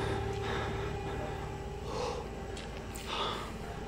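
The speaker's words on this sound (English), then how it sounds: "That's not me panting, that's the character." Heavy, ragged panting and gasping breaths from a player character in the horror video game Outlast, close and steady for several seconds over a dark, low ambient hum, with a few sharper gasps.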